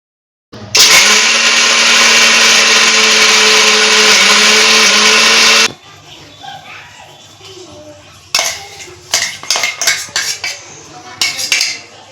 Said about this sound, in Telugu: నెక్స్ట్ పల్లీలు అయితే మిక్సీ పట్టుకొని పౌడర్ అయితే ప్రిపేర్ చేసుకోవాలి